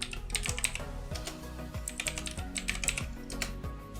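Rapid keystrokes on a computer keyboard as a password is entered, a steady close clatter of many quick taps running throughout with no talking.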